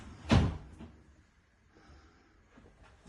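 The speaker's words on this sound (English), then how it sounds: "Oh, you've got another door." A door in a shower room en suite inside a house for sale, heard as one sharp, close knock or clunk, followed by faint rustling and a few soft taps, with no talking.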